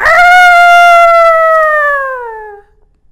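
A storyteller's voice imitates a loud chicken crowing in a children's tale: one long, strong, drawn-out tonal call that slowly falls in pitch and fades after about two and a half seconds, heard alone.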